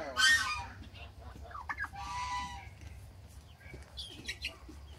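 Chickens cluck and squawk nearby in short bursts, with a louder call at the start and scattered softer clucks after.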